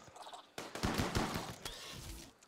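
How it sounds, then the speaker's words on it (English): A chain shotgun fires rapid rounds against bugs in the Rimworld video game. A quick series of sharp, close blasts comes in a short burst, then fades out. "The chain shotgun really tears through them."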